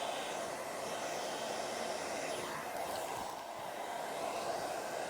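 A hair dryer blowing steadily while side bangs are shaped, a continuous breathy whoosh with a slight dip in airflow midway, close and alone.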